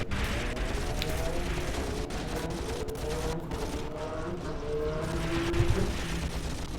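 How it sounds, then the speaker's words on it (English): Machine guns fire in Graviteam Tactics: Mius Front, a wartime battle game, as a dense, rattling fusillade of rapid bursts. Heavy rumbling battlefield noise sits underneath, with no talk. "So far, our machine guns are actually handling the enemy infantry pretty well."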